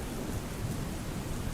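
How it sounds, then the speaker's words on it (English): Steady, fairly loud rain pours throughout a nighttime thunderstorm, with low rumbling thunder rolling under the hiss, no voices. "You hear the thunder?"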